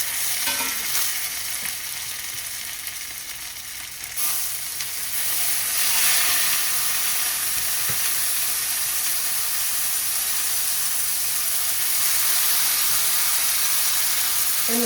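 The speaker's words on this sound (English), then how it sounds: "you want a hot pan if you're gonna sear it" Chicken sears in a hot pan on low heat, a steady, close, bright sizzle and hiss running without a break throughout, with no voices.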